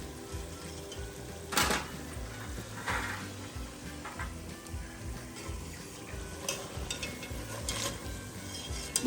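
Fries cook a second time in hot oil until crispy, making a continuous sizzle with periodic stirring clatters and a few sharp metallic knocks nearby.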